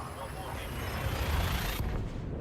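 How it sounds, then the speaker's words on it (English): Fighter ship blowing up in the Elite Dangerous space game: a loud, sustained rumbling blast that dies off abruptly near the end, up close with no talk over it. "He blows up as sort of as like a farewell explosion."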